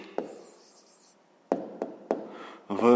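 Pen tapping and scratching on a math exercise book page, a few distinct taps spaced across a quiet stretch, then a brief voice at the end.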